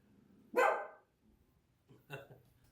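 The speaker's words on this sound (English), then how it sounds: "My dog's attacking somebody." A dog barks sharply at something it dislikes, one loud close bark followed a second and a half later by a softer second bark, with quiet between.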